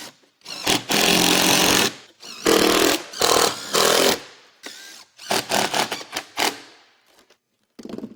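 Power tool cutting a roof tile to fit around a pipe boot over flashing, heard in several loud, harsh bursts of a few seconds each with short pauses between them.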